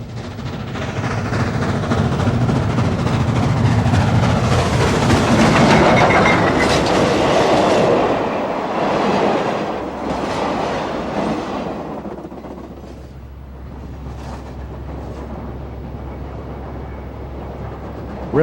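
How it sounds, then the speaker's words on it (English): A steam train rolls past on rails, building to a loud, close roar of wheels and clattering cars before fading into a lower rumble as it moves away, with no voices. "Wherever a steam train travels, people follow"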